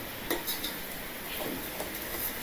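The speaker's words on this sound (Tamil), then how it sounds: "அதை நல்லா கிண்டி விட்டுட்டு" Sautéed onions and garlic in a pan for vegetable kichadi are stirred, giving a faint steady sizzle with a few light metallic taps and scrapes of a utensil against the pan, close and quiet.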